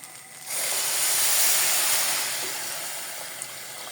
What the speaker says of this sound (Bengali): দেখেন এখন আমি পানি দিয়ে দেবো এখানে